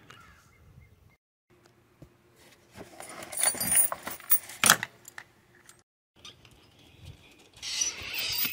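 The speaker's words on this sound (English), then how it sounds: "Now I'm going to go get the keys so we can test the mirror." Car keys for a 2000 Oldsmobile Silhouette van jangle in several bursts at close range, loudest in the middle, with brief quiet gaps and light handling noise between them.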